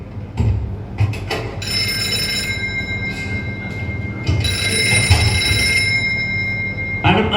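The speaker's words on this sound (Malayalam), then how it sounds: "ഒരു ഫോൺ കോൾ" A telephone rings in bursts of electronic trilling tones, repeating a few times over a low background hum with faint voices, in a hospital obstetrics and gynecology outpatient clinic skit.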